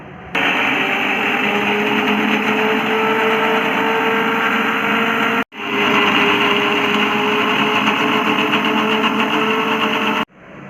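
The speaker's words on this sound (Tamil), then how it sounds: "ஜூஸரில் நம்ம வாட்டர்மெலன் பீசஸை போட்டுருவோம்" A home electric juicer grinds watermelon pieces with a loud, steady motor whine. It runs in two long stretches separated by a brief stop.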